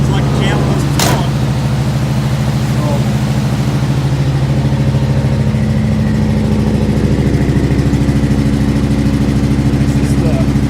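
Cold idle of a cammed Chevy 305 V8, a steady loping rumble held at a fast idle throughout, loud and close, with a brief sharp knock near the start.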